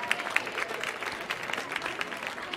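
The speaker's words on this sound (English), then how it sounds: "Have a round of applause for Sophie, our company." Applause from an audience at a live tango dance class with orchestra music, a steady wash of clapping with a few sharper individual claps near the start, moderately loud throughout.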